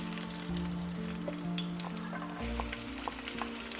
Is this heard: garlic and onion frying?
yes